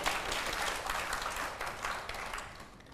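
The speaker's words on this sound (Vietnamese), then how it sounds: "Thì mọi người có thích thì vỗ tay mà ủng hộ cho mình." Audience at a Vietnamese TV dating show applauds steadily in a dense, sustained wash of clapping that gradually thins toward the end.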